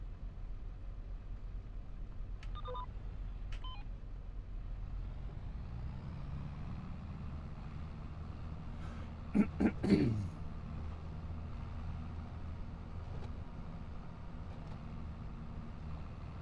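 A tractor engine in Farming Simulator 25 drones as a low, steady rumble all the way through. A few brief clanks and a short hiss break in near the middle.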